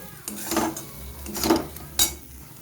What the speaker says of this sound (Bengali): তাই এখন আমি আরও কিছুক্ষণ ভালোভাবে ভেজে নেব